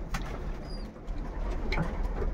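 Pigeons coo softly inside a loft, with a young bird's faint squeak among the low, rolling calls and a quiet ambient background.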